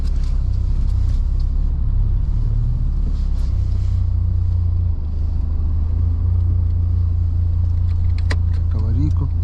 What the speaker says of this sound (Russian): Сейчас поедем на буксире потихоньку.